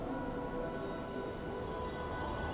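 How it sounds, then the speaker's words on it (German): Steady rain falling in the video game Fallout 4, an even, continuous hiss of drops on surfaces with no pauses, fairly quiet and heard alone throughout. "Spürt ihr auch den frischen Regen auf der Haut?"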